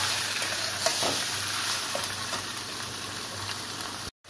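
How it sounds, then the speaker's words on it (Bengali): Chicken pieces, added frozen, fry with spices in a hot pan, a continuous loud sizzle broken by soft scraping stirs, cutting off abruptly just before the end. "মাংসটা দিয়ে আস্তে আস্তে ভালো করে ভেজে নেব"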